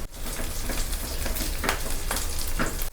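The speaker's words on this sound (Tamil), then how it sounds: "சின்ன வெங்காயம் நல்லா ப்ரௌன் ஆகணும், நல்லா வதக்குங்க." Small shallots frying in oil in a pan until browned, a dense, continuous sizzle with occasional stirring scrapes, close and steady throughout.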